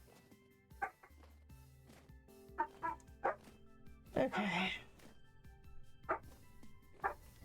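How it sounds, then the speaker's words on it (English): Restless dogs let out a string of short, sharp barks and yips at irregular intervals, fairly faint over a steady background hum, with a brief spoken word among them. "Dogs are getting restless."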